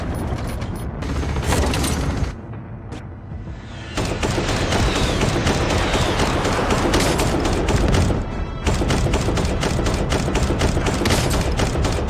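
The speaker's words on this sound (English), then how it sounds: "Artillery is preparing to fire." Artillery fire in the mobile shooter game Call of Duty Mobile: dense rapid booming blasts and mechanical rattling in loud bursts, with a brief lull before the barrage resumes.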